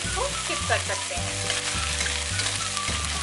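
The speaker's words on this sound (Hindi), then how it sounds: "चीज़ें अच्छे से फ्राई हो गई हैं।" Paneer frying in a pan while making sabudana khichdi, a close, continuous sizzle with occasional stirring scrapes and clinks throughout, with no talk.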